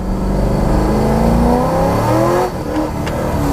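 A C5 Z06 Corvette accelerates hard in second gear at wide open throttle, its engine note rising steadily and loud from inside the car before a brief dip near the end.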